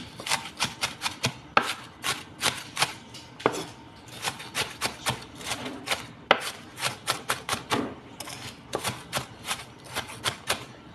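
A knife chops a white onion on a board in quick, steady strokes, about three sharp, close taps per second with brief pauses between runs. No one talks.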